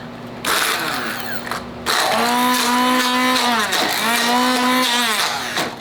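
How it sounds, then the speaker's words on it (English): An immersion blender with a splash shield whirring through homemade hummus of garbanzo beans, loud and close, starting after a short pause and then running in strong bursts whose pitch dips and rises as it works the thick mixture. "I am gonna be using an immersion blender."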